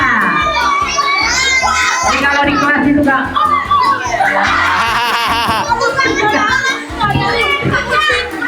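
A class of children shouts and laughs hysterically at a farewell, loud overlapping young voices, giggles and excited squeals filling the room with an adult voice speaking briefly among them.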